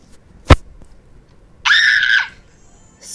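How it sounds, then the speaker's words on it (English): A child screams twice, first a loud sharp burst and then a sustained high-pitched shriek lasting over half a second, with a further scream starting at the end. "Stop screaming."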